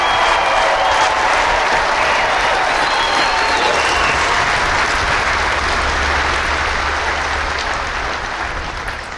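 Loud, sustained applause from a crowd at an Air Force training squadron coin ceremony, honouring military instructors, a thick continuous roar of clapping that tapers off near the end.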